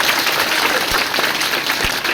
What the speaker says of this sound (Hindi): बहुत ताली होनी चाहिए बात पे, जोरदार ताली।